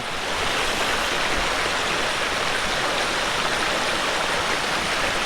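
A waterfall and stream beside a forest campsite give a loud, constant rushing roar of water, close and unbroken throughout.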